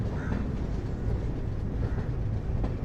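Sanghamitra Express passenger train running along the tracks near Vijayawada, a steady, loud, rumbling roar of wheels and carriages that continues throughout with no voices.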